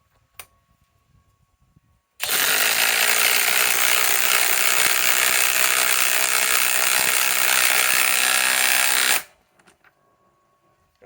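An 8 amp battery-powered driver sinks a 6-inch lag screw into wood in one loud, steady run of about seven seconds, the motor whirring without a break, with faint handling noise before and after.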